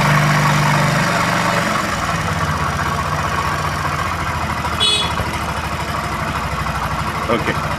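A vehicle engine idles steadily after starting during a carburetor idle adjustment, a continuous mid-low rumble with a brief higher blip partway through and a voice talking over it.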